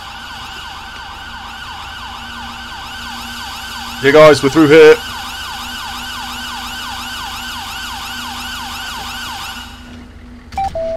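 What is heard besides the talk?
ambulance siren in the video game GTA 5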